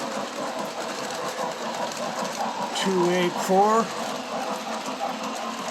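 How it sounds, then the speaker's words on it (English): Three model trains, including a Norfolk and Western 611, rumble steadily along the track with a continuous mechanical whir, while someone talks over it. "So, we're here running 3 trains."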